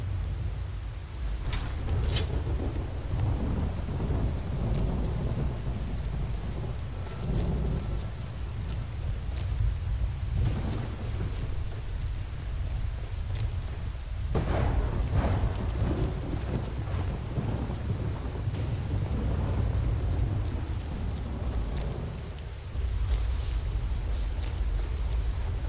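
Steady, heavy rain pours through a thunderstorm in the video game Skyrim, with several loud thunder cracks and rumbles rolling over the constant downpour.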